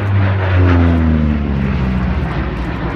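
Lockheed aircraft, the P-38 Lightning, flying past at an air display, a steady loud piston-engine drone with a slowly falling pitch as it passes, alone without talk.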